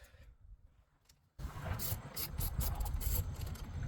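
A ratchet wrench works on a battery terminal of a 2005 Ford F250 Super Duty truck: a quiet moment, then continuous close clicking and rattling of the ratchet and metal parts.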